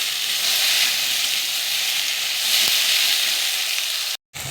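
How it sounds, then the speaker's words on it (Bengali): Okra frying in plain oil hisses in a loud, close, steady sizzle with little variation, broken by a sudden brief silence near the end before resuming. "তাই এখন কোনো মশলা দিচ্ছি না, শুধু তেলেতেই ভাজবো একটু।"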